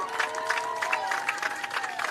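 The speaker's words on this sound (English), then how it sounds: "Let's give them another round of applause." A crowd at a youth softball all-star doubleheader claps in a quick, continuous patter, moderately distant and fairly soft, with a tonal hum running underneath.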